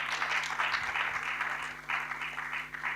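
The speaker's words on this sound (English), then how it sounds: "A round of applause, everyone." An audience at a pest control health and safety talk applauds in a continuous, moderate patter of clapping, with a low steady hum beneath it.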